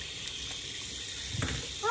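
Tap water runs steadily from a faucet over a device being rinsed clean at a sink, a soft continuous broadband wash with a slight surge near the end.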